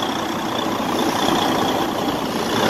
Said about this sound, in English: Everything sounds normal on the engine.